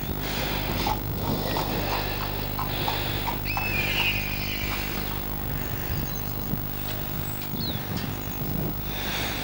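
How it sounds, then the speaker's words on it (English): Horse hooves clop at a walking pace over a steady outdoor rumble, with a bird chirping briefly. "Someone's just been out for a ride on the horse."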